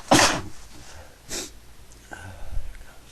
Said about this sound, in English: Okay, I can't stop sneezing.